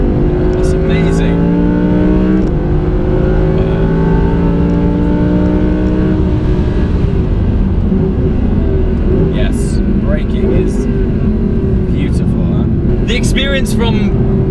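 An Audi R8 Performance Pack accelerates hard along a track straight, its engine note climbing steadily through the revs as a loud, continuous in-cabin roar, with a brief shift and fresh pull partway through.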